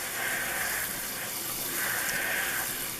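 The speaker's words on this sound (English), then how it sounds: "So we're going to rinse these." Tap water runs in a steady, soft hiss as black beans are rinsed in a strainer. The flow continues without a break and no one speaks.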